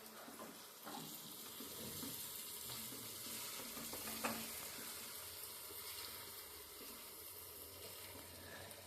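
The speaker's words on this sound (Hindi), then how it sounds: "अब ये देखो मिक्स हो रहा है कैसे, एक बार मैं मिक्स करता हूँ।" Bhaji masala stirred in a hot pan over a high flame gives a steady sizzle with soft scraping strokes, fairly close, with one brief clink midway and no talking.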